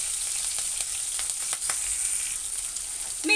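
Green chillies lightly frying in a pan for a street-style Maggi with egg: a steady, close, hissing sizzle runs throughout with a few faint clicks, and no voices.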